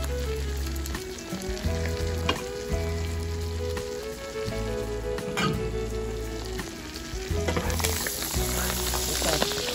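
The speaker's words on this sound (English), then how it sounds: "Remember now, you don't need to brown the garlic, we're just sweating it." Garlic sweats in butter over low heat with parsley, giving a busy, steady sizzle and crackle over a low hum that grows a little louder near the end.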